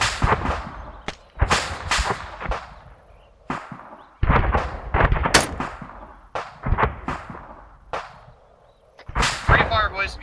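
Gunfire in a military video game: sharp, loud shots arrive in irregular bursts, each with a short trailing echo, separated by brief lulls.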